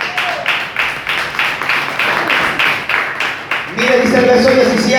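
Church congregation clapping loudly in a steady, rhythmic beat, then a voice rises over the claps near the end.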